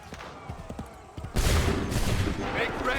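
A musket volley in Assassin's Creed 3 breaks out as a dense, sustained crackling roar of many shots, following a stretch of quieter game noise with soft shouted commands.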